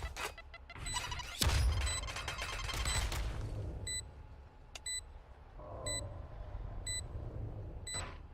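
A planted spike in Valorant beeps in evenly spaced, high, clear pips through the second half, sounding over dense gunfire bursts and rumbling match noise.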